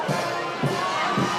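Outdoor crowd noise as President Diomaye greets people outside the palace gates, with a steady wash of voices rising in three brief swells of cheering over about a second and a half.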